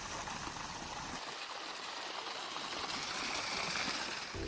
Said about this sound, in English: additional pressure pumps water through the hollowed trunk of the tree